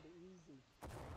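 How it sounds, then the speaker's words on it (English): Friendly artillery in the Civil War video game War of Rights lands as a sudden, loud broadband boom near the end, following a stretch of background voices and tonal sound. "That's friendly artillery"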